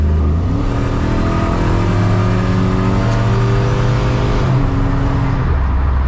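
An LS-swapped 1999 Chevy S10 pickup with a built transmission and new stall converter accelerates hard, its V8 engine note climbing steadily in pitch as it pulls through the gears, loud and continuous with no talk.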